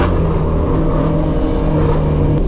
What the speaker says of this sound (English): Norcal Shelbys out on our Shelby cruise